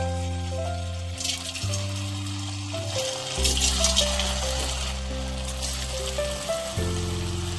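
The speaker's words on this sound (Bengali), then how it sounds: "এখন গ্যাসটাকে মিডিয়াম ফ্লেমে রেখে আমি অল্প অল্প দিয়ে ভেজে নেব" Potato and semolina snacks frying a few at a time in hot oil over a medium flame, a soft rain-like crackle of sizzling running under prominent background music.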